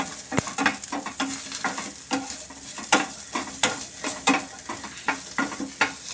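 Onions fry in a pan with a steady sizzle while a spoon scrapes and stirs them in a regular rhythm of strokes, close by and with no voices.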